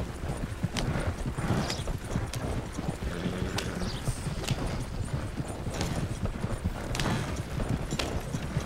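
Horse hooves clip-clop in a steady trotting rhythm throughout, close and continuous, with faint rumbling movement beneath, from a cart horse in the video game Red Dead Redemption.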